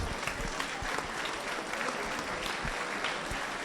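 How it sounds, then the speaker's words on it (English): A lecture audience applauds speaker Mr. Black, Edwin Black, with dense, continuous clapping and a few sharper claps standing out. "give another round of applause, please, for Mr. Black"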